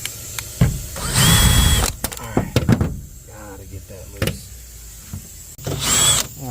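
A power drill backs screws out of a Trane commercial package unit's heat exchanger panel in two loud whirring bursts, separated by clicks, clatter and someone speaking.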